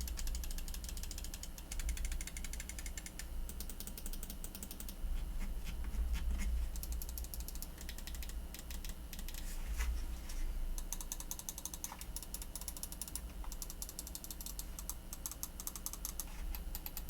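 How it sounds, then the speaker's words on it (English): Rapid clicking from the buttons of a Roccat Kone XP Air gaming mouse with clicky Titan optical switches, a dense continuous patter of close clicks over a noisy background hum. "here's a quick sound test for you guys to hear what it sounds like"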